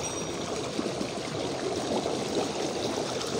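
Fast irrigation water gushing into a berseem fodder field, a dense, close, continuous rushing and gurgling flow with no talk over it.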